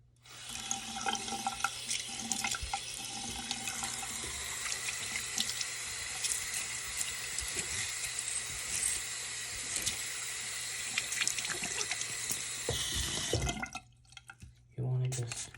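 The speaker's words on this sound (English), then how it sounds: "going to turn the water on a little bit." Tap water running into a sink to wet a heavy 14k gold Miami Cuban chain (12.6mm, 23-inch, 277.4g) while it is being cleaned, a soft steady stream with drips and handling clatter, and a person talking over it.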